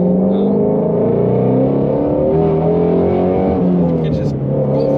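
A 2020 Ford Mustang GT350R engine pulls hard through the gears, a loud close-up roar with rising revs and a shift partway through, a voice speaking over it.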